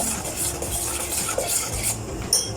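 Butter stirred as it melts in a pan over a very low flame, with steady scraping and light metallic clinks of a utensil against the pan, plus a soft sizzle underneath and a couple of brighter clicks.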